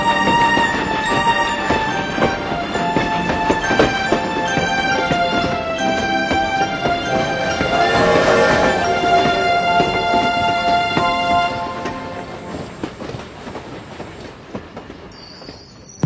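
Barisal Express passenger train running, loud rhythmic clatter of wheels on rails with metallic squealing tones, fading somewhat toward the end.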